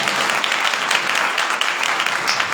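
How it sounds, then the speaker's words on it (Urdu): A church congregation gives loud, sustained applause: dense, continuous clapping from many hands that stays strong and steady from start to end. "ایک بار پھر اس زندہ کلام کے لیے اپنی محبت کا اظہار کیجیے زوردار تالیوں کے ساتھ"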